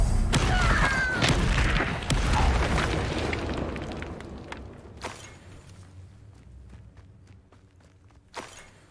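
A Confringo blasting curse in the Hogwarts Legacy game erupts in a loud, booming explosion that rumbles and fades over several seconds, followed by scattered softer pops and a later sharp burst.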